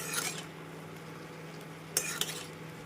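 Quiet stirring and scraping of meal maker (soya chunk) thokku with chopped coriander in a pan over a faint steady hum, with two sharper utensil clinks near the end.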